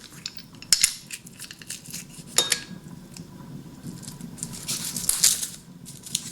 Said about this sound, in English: If some of the cloves are too big to put in here directly, then I'll chop them in half and put them in our crusher